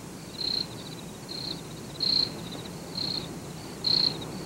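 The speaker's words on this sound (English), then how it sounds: "It's a cricket." A cricket chirps at night in short, regular bursts, five of them about a second apart, clear and near against a soft background hum.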